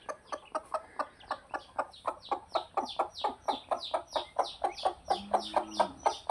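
A hen clucks steadily in a rapid, regular series of close, loud clucks beside her Muscovy ducklings and eggs, with a lower grunting call near the end.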